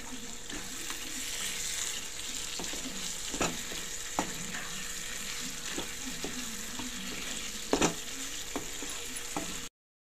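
Chicken with masala powder fries in a pan, a steady loud sizzle running throughout while a utensil stirs and scrapes at intervals with sharp clinks, no voices.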